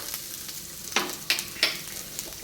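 Grated coconut roasting in ghee in a hot kadai for wheat paniyaram gives a soft, continuous sizzle, broken by three quick, bright scraping stirs.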